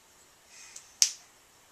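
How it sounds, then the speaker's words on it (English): One faint clap followed by a single louder, crisp clap nearby, heard alone in a quiet room. "Can you clap?"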